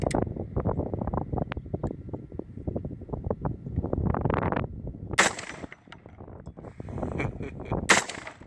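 .458 SOCOM rifle shots fired at a pumpkin, heard as a couple of sharp, loud cracks against outdoor wind noise and rustling.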